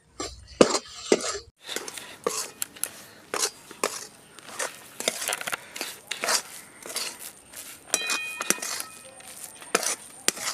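Soybean paste stirred in a pan over low heat, with a run of light scraping and clinking spoon-on-metal taps in an irregular rhythm, close and moderately quiet, with no talking.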